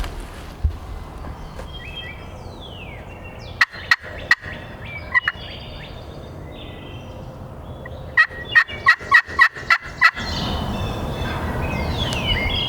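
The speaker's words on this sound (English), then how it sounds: "I just called to him down in this bottom and he gobbled right here." A wild turkey gobbler gobbles outdoors on Pennsylvania public land, several loud rapid rattling gobble bursts in two clusters, the second a quick run of about six, fairly close over outdoor background noise.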